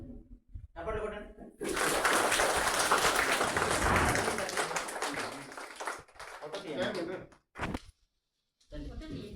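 Clapping crowd at a village school's 80th Independence Day celebration on August 15, as the flag is hoisted: a dense burst of applause swells, holds for several seconds, then thins into scattered claps, with voices speaking around it.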